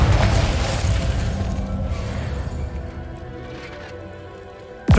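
A Confringo fire spell explodes in Hogwarts Legacy as a loud, close blast. It sustains a dense rumbling roar for several seconds, slowly fading, and a fresh burst strikes right at the end.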